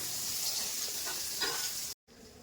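Ginger, garlic and tomato paste fry in a pan for a taro stolon and prawn dish, giving a steady, bright hiss with faint stirring scrapes before a brief cut.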